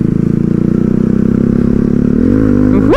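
A loud motorcycle with modified mirrors riding along, its engine thrumming in a rapid, pulsing rhythm close by, then revving sharply upward at the very end.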